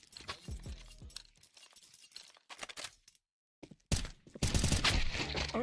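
Video game firefight with bursts of gunfire and sharp clinking impacts, irregular and loud, broken by a short silent gap before a dense, sustained stretch of shooting near the end.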